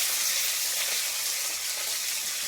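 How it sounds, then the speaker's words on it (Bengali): Onions hitting hot oil with green chillies and five-spice tempering for a Bengali fish curry, giving a steady, close, broadband sizzle that holds evenly throughout with no voices. "ঝালের জন্য এখানে আমি পেঁয়াজ দিয়ে দেবো।"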